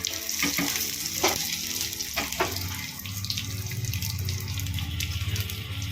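Curry leaves tossed into hot oil with browned garlic for a tempering over homemade whole masoor dal, giving a steady close sizzle and crackle with a few sharp pops early on, no talking.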